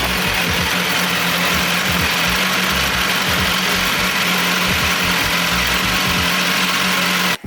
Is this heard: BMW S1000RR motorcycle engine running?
yes